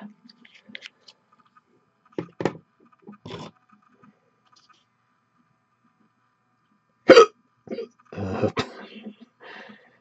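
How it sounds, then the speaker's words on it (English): Several sharp hiccups come in a quiet room, spread irregularly across the stretch with near silence between them, close and fairly loud, alongside a few small clicks. "And the hiccups just came back."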